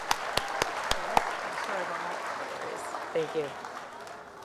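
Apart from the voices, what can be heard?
school assembly applause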